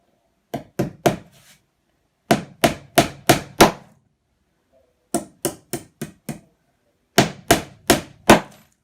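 Sharp hammer blows drive nails into pine flooring in quick bursts of three to five hits, separated by short pauses, close and loud with no talking.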